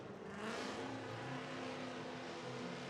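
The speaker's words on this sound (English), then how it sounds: "Brandon Sorensen warming up his tires" A Formula Drift car warms up its tires at the Orlando event, its engine a loud, continuous, high-revving roar with a sustained tire-and-exhaust wash throughout.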